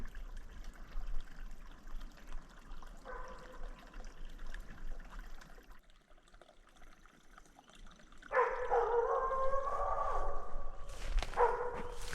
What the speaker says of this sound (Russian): Кого-то зацепила собака. Серьезно лает.